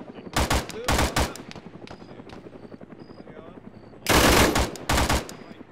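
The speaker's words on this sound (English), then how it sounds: "I'm just shooting at leaves that are moving." Loud bursts of rapid automatic gunfire in a video game jungle mission, shooting at moving leaves: two quick volleys, a pause under a steady helicopter-like drone, then a longer heavy burst.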